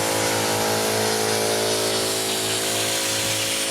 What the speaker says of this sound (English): My compressor kicked on.